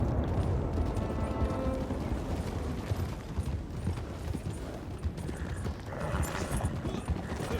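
Horse hooves clip-clop in a video game during a storm, a close, uneven run of hoof knocks over rumbling mechanical and weather noise that fills the whole stretch, with no talking.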